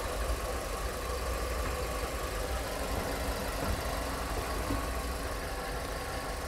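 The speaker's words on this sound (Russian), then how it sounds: "Что касается самого мотора, работает без проблем, ничего нигде не бежит, не подтекает." The 2-litre, 141-horsepower petrol engine of a 2008 Hyundai Tucson runs steadily at idle, a constant even hum with a faint ticking texture, close and alone without speech.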